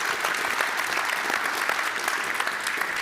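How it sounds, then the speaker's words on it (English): Audience applause for the speakers at the close of the first session of a university education conference, a steady dense clapping from a large room that continues throughout without a break. "I would like to invite you all to applaud for all the speakers for this first session"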